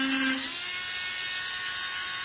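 A handheld electric engraver pen buzzing with a steady, high whine like a dentist's drill, close and continuous throughout, with no talking.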